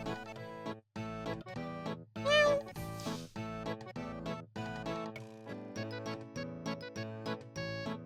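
A person imitates a cat, voicing a series of drawn-out, meowing calls with a rising squeal in the middle, close and fairly loud.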